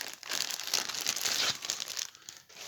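Crinkling plastic bag being handled close by, a steady crackly rustle for a couple of seconds before it eases off.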